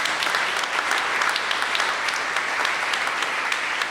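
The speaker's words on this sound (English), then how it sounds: "Give them a round of applause." Sustained audience applause at a community event, steady dense clapping from a crowd that fills the whole stretch at an even loudness without a break.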